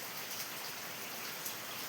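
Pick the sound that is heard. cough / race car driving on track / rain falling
rain falling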